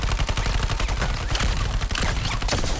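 Rapid gunfire in the Suicide Squad: Kill the Justice League video game, dense bursts of automatic shots crackling continuously and loudly without pause.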